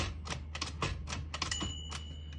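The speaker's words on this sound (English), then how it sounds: "I'm going to clear those by hitting the tab and then clearing it when I get to it" Typewriter keys and the tab mechanism on a 1959 Royal Heritage portable typewriter clack in a quick irregular run of sharp mechanical strikes. The strikes are close and distinct, with no speech.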